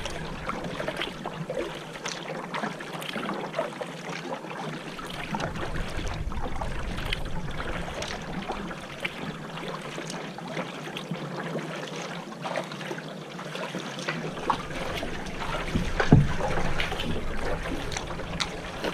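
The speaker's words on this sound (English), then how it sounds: "just gonna paddle underneath this little bridge" A canoe is paddled on a lake in Algonquin, passing under a small bridge, with gentle paddle strokes, splashes and water trickling against the hull, soft and close, and some hollow broadband rumble around it.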